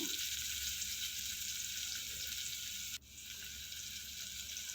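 Chopped onion, garlic cloves, cumin and mustard seeds sizzle in hot oil for tomato rasam, a dense, steady frying hiss that continues on its own with one brief dip midway.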